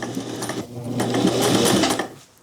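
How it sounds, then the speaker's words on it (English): Sewing machine backstitching while machine-appliquéing fabric hexagons onto a curtain, a steady close mechanical whir that builds and then stops short, with no talking. "I'm gonna go just past it and then backstitch a little."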